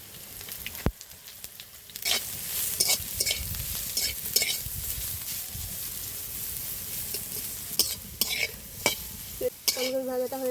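Cumin, nigella seeds and chili sizzle in a little oil in a pan, a steady crackling hiss broken by sharp scraping strokes of a spatula stirring, close and clear without speech.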